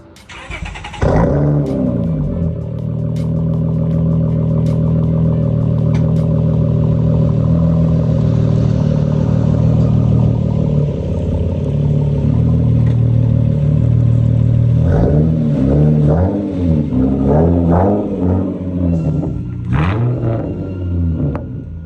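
A 2008 Honda Accord 3.5 engine idles with a steady low rumble for a long stretch, with a few brief revs near the start and toward the end.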